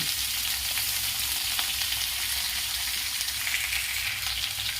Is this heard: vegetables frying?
yes